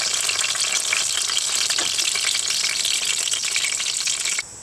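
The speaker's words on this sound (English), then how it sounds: "It's starting to get hot enough under there that they're frying nicely." Chile rellenos fry on a grill with a loud, continuous sizzle and crackle that stays even throughout, then drops off abruptly at the very end.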